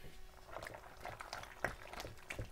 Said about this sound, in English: I love that sound of the shells like absorbing all that cheese.